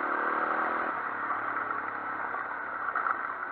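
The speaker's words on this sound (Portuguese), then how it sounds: "Sente só esse barulho da XL," A Japanese Honda XL 250R motorcycle engine idles and runs steadily nearby, a continuous mid-pitched thrum and whir with light mechanical clatter and no talk over it.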